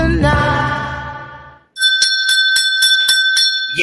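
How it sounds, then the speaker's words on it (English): A hand bell rings repeatedly in bright, metallic strikes, about eight quick dings in a steady rhythm after a stretch of music fades out, loud and close. "I'm ringing the bell."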